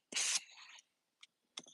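A big sprayer blasts glaze onto large pottery pieces in short hissing bursts: one longer spray at the start, then two brief puffs after pauses, close and fairly faint.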